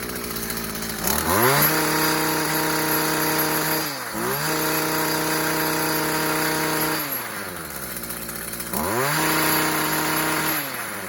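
A Stihl HL45 trimmer's small two-stroke engine, freshly tuned on the high-speed carburetor screw, revs up and drops back in several smooth, loud bursts up close.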